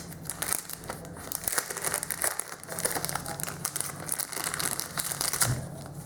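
Crinkling and rustling of packaging as a Samsung Galaxy Note 4 battery is unwrapped, close, irregular plastic crackles running throughout with no talking.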